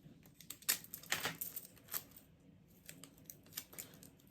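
Piece of tape being handled: close, crinkly ticks and small snaps in an irregular sequence, with brief pauses between the sharper crackles.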